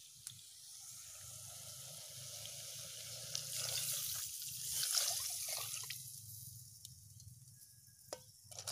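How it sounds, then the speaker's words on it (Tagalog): Coconut milk is poured into a cooking pot of snails being prepared, giving a soft liquid splashing and trickling over a low background hum, quiet and close, swelling midway and then fading to occasional drips. "Lagyan namin ng gata, niyog to."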